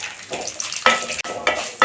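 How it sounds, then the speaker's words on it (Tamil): Dried red chillies, broken by hand, frying in hot oil in a pan for an amaranth greens stir-fry, giving a steady close sizzle with bursts of crackle and a few stirring scrapes. "ரெண்டு மிளகாய் வத்தல் கிள்ளி போட்டுக்கலாம்"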